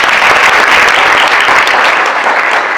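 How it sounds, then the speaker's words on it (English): A crowd at a launch event in the DCU Center, Worcester, gives another round of applause, sustained loud, thick clapping throughout with no pause. "can we give her another round of applause?"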